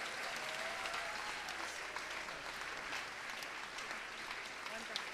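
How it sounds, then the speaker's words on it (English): A church congregation claps steadily for the Lord, a continuous moderately distant wash of many hands with a voice talking faintly underneath. "Let's give Dr. Kim Sung-hae, Mrs. Cho, and give the Lord a big clap right now."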